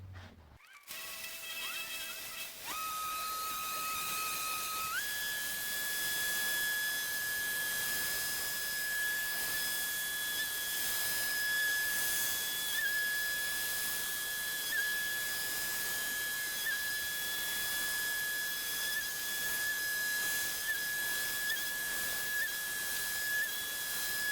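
A power polisher works over a garage workbench to remove swirl marks, giving a steady, loud, high motor whine that steps up in pitch early on and then holds for about twenty seconds, with no talking.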